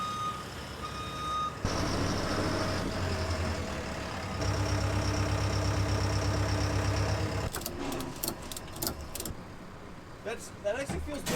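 A truck idles with a steady engine drone and a persistent high reversing beep, with metallic clanks and clatter near the end at a scrapyard recycling bowling alley steel.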